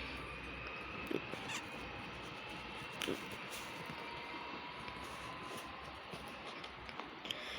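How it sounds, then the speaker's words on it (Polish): A Koleje Wielkopolskie Impuls train departs Poznań Dębiec station for Wolsztyn, heard faint and distant as a steady low rumble with a thin electric whine and a few soft clanks. "odjazd kolei wielkopolskich do Wolsztyna z impulsem."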